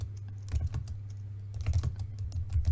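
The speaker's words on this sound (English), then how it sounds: "We can actually just type in" Bursts of quick keystrokes on a computer keyboard, typing a place name into a map search box, with a steady low hum underneath and short pauses between clusters of clicks.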